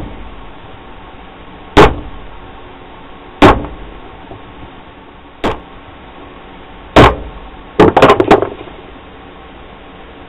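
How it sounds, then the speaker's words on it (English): A steel punch struck into leather for a Nessmuk-style knife sheath, five or six sharp hammer taps spaced a second or two apart, the last few clustered quickly together, close and loud in a quiet room. "Then I go back with a regular punch and really drive them in."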